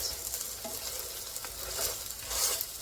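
Hot water cornbread frying in a skillet of oil, giving a steady, close crackling sizzle with brighter bursts of spatter throughout.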